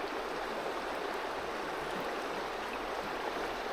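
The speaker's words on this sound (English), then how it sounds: "Freezing cold, fresh Scottish mountain water." A cold Scottish mountain stream in the Cairngorms wilderness in December flows continuously, a steady broadband rush of water at moderate distance with no talking over it.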